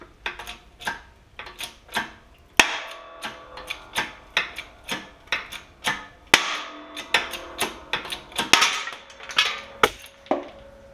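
A bushing is pressed out of a control arm on a 1966 Ford Galaxie 500 convertible using a socket as a spacer, heard as steady, rhythmic metallic ratcheting clicks and creaks from close by.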